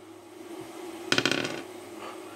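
Dice tumble across a table during a tabletop war game with toy army men: a short, close burst of hard clicking and bouncing clatter that settles quickly over a low background hum.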